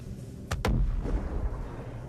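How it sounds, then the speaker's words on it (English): Two sharp, muffled booms in quick succession, then a low rumbling tail, from a distant ship exploding in the space game Star Citizen, heard alone against a faint background hum. "I'm assuming that means a ship just exploded somewhere"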